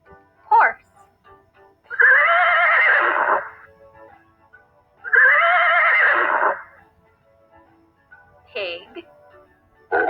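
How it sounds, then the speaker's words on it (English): Horse neighing: two long, loud whinnies a few seconds apart, close by, with short faint snorts before and after. "Horse."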